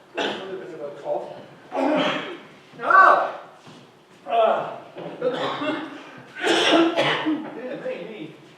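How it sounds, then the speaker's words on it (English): A person coughs repeatedly, a series of rough throaty bursts spaced about a second apart, close and fairly loud, with breathy gaps between. "A little bit of a cough."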